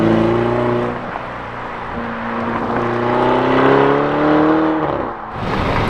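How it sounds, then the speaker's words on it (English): A big truck rolls past on the road, its deep engine drone swelling loud and close with steady harmonic tones, then fading as it moves away and another vehicle approaches. "Oh, that's a big truck"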